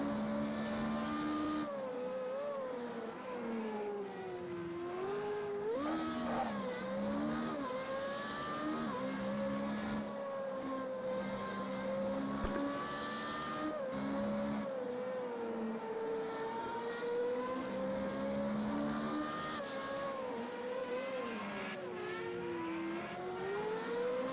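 Racing car in a video game, its engine revving up and down through gear changes, with sweeping pitch rises and falls and brief lifts off the throttle, loud and continuous throughout.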